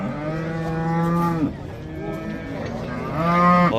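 Cattle at a livestock market moo in long, loud, drawn-out calls close by, two lowing calls separated by a brief pause over steady crowd background.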